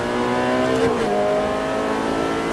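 A Ferrari F430 F1 engine revs hard on a race track and climbs in pitch, dipping briefly as a gear changes before pulling up again, loud and close throughout.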